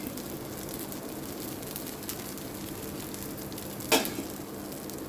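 A plain dosa sizzling on a hot pan, a steady close hiss of frying batter that goes on without a break, with one brief louder crackle partway through and nobody speaking.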